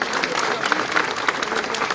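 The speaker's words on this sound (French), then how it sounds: "je voudrais aussi qu'on les applaudisse" An audience at an outdoor town festival with giant figures claps steadily for the musicians and music societies, a dense crowd applause with no pauses, fairly loud and continuous.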